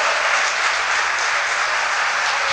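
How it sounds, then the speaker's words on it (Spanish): Congregation applauding the Lord at a church service: dense, steady clapping from a crowd, loud and continuous throughout with no voices standing out. "Dale un fuerte aplauso al Señor"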